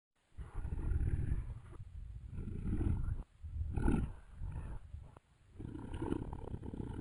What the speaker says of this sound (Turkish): bu korkutucu sesin sahibi, aslan